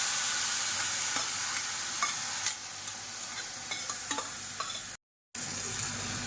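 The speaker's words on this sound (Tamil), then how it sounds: "இப்போ நல்லா கலந்து விட்டுறலாம்." Beetroot and moong dal kootu stirred in a pan with asafoetida, a steady light sizzle with scattered spoon scrapes and clinks, close and continuous, with a brief dropout near the end.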